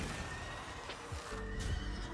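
Horse neighing in the video game Hearthstone Battlegrounds: a brief, clear whinny over game music and effects, with a few other short sound effects around it.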